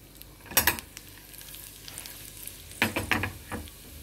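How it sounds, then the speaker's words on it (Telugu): Mustard seeds, urad dal, chana dal and cumin sizzle in hot tempering oil for a pickle. A steady close crackle is broken by a few louder bursts of frying and stirring clatter. "ఇప్పుడు కొంచెం పచ్చడి తిరగమాత వేస్తున్నాను. ఆవాలు, కొంచెం మినపప్పు, శనగపప్పు,"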